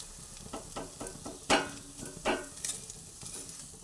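A spoon stirs and scrapes salted potato filling frying in a pan, a few close, distinct strokes over a soft, faint sizzle.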